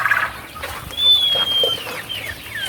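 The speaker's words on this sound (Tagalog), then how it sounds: "Ito ay mga turkey din, guys." Turkeys in a farm pen give a gobbling, warbling call, loud and near, with clucking fowl and general farmyard noise around it.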